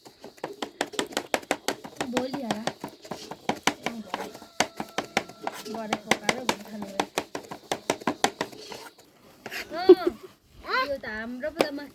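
Pork bones are chopped into small pieces for village-style momo, a rapid series of sharp close knocks with irregular rhythm, while people talk over and after the chopping.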